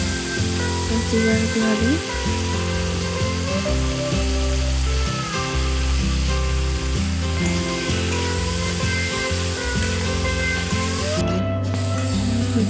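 Ginger and garlic paste sizzle in hot oil in a frying pan for a fish curry with potatoes and tomatoes, a loud, steady hiss close by, while a person speaks briefly over it.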